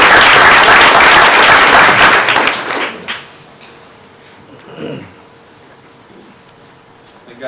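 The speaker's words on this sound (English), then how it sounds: "Let's give Skylar a round of applause." A room of people at a school board meeting applauds loudly for a couple of seconds, then the clapping fades to a few scattered claps and faint voices.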